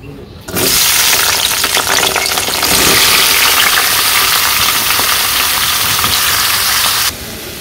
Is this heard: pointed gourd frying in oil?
yes